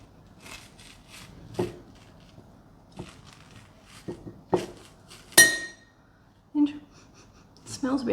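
A cleaned spoon scraping and knocking inside a large halved marrow while scooping out seeds, giving a series of separate clinks and scrapes with quiet pauses between them.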